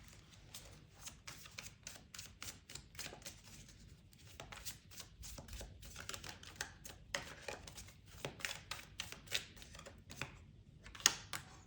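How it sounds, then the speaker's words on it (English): Tarot cards being shuffled and pulled, soft rapid riffles and slaps at close range, quiet and irregular over several bursts. "Let's pull a few more cards"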